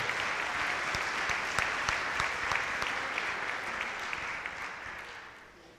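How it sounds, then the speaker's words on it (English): A crowd applauds steadily at a school band holiday concert, a dense wash of clapping that holds for a few seconds and then gradually fades away. "how about a nice round of applause"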